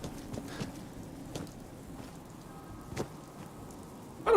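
Rain falling in Fallout 4, a faint steady patter with a few sharper drop-like taps and a brief louder burst at the very end.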